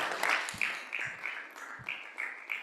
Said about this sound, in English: And then we also have to give ourselves a very massive clap.